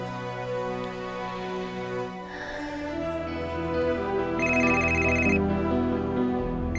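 A telephone rings in a TV drama scene, a repeating electronic ringtone rising over background music and growing louder toward the end.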